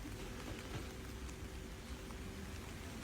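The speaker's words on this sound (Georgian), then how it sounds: "წვიმა მთლად გადარია და გააგიჟა." Heavy rain pours over a garden of peonies and petunias, a steady, dense hiss of countless drops striking nearby surfaces, faintly recorded and constant.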